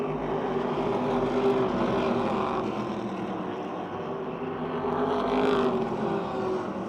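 Race cars battle wheel to wheel around Motordrome Speedway, a continuous droning engine roar from a pack at moderate distance that rises and falls slightly as they pass, with no talk.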